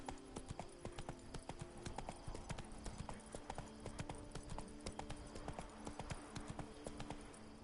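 A horse named Roach gallops in The Witcher 3, a steady rapid clip-clop of hooves repeating throughout over a constant background bed, fairly close and prominent.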